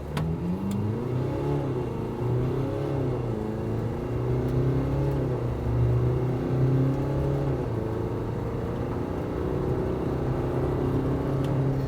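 A facelifted 2022 LDV T60 Max ute accelerates hard from standstill toward 100 km/h, its engine droning and rising through the gears in steady near cabin sound, no one speaking.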